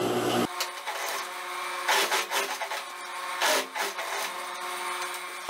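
A sewing machine stitching the darts of a dress runs in a steady mechanical whir, close and continuous, with a couple of louder surges partway through.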